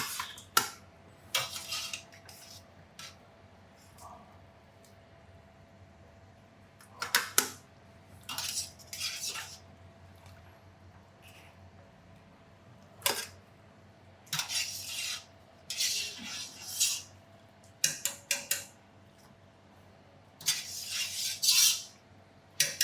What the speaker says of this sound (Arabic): ننشل الفراخ دي، نطلعها من الشوربه الجميله اللي احنا هنعمل فيها الملوخيه